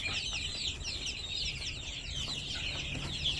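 Young domestic chickens cluck and chirp continuously in a busy chorus, fairly close, with a steady background murmur and no talking.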